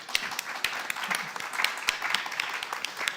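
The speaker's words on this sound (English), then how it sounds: "let's give them a very big and warm applause" An audience at a conference panel on clean energy innovation and critical raw materials applauds the panelists, a full, steady crowd clapping with a few sharper individual claps standing out near the front.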